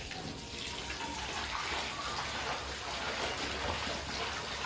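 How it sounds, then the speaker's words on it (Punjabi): Water splashes and trickles steadily as washed winter coats are gently pressed and squeezed by hand in a basin, close and continuous. "ਹਲਕੇ ਹਲਕੇ ਹੱਥਾਂ ਨਾਲ ਇਹਨਾਂ ਨੂੰ ਪਾਣੀ ਕੱਢਣਾ"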